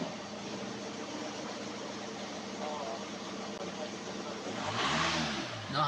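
A VW/Audi TSI petrol engine in a Golf, Jetta, Passat or similar car runs at a steady idle with broadband hum, then revs up briefly near the end, close and fairly loud.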